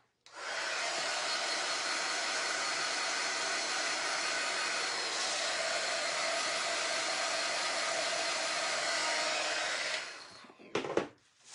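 Hair dryer blowing air steadily to dry a wooden lamb-shaped cutting board, a loud continuous whoosh running for about ten seconds before cutting off with a few handling clicks.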